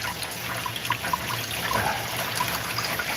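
Fat from cooked 7% fat meat drains out in a steady, close liquid trickle, running continuously without a break and with no talk.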